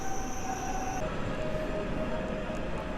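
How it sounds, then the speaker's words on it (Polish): An SKM commuter train on line S1 rolls into platform one at Warszawa Zachodnia station, a steady rumble under a sustained high whining tone that shifts in pitch partway through. "Wjeżdża SKM na linii S1 na tor 20 przy peronie pierwszym do Twocka."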